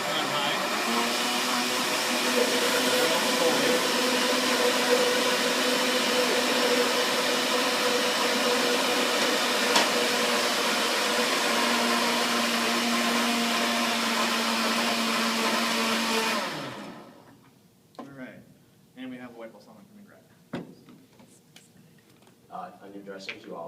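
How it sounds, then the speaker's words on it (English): A blender runs loud and steady for about sixteen seconds, blending a salad dressing of vinegar and shallots, then cuts off abruptly and people start talking. "everything goes in the blender except for the oil. We turn it on, we get everything combined and the shallots ground up"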